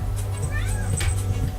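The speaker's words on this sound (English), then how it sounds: "Cat's meowing at random people at the front of my house" A house cat meows repeatedly at people outside the front of the house, several short cries in quick succession, fairly close, with a person talking alongside.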